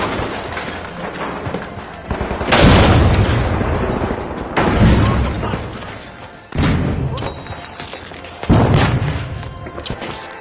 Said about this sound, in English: RPG fire!